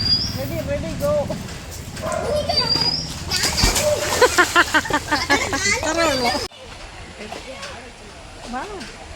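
Family members splash in the water of a stream while bathing near Thodupuzha, with irregular close splashes under lively talk and children's voices, and a dog barks briefly.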